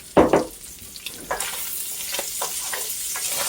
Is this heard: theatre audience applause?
no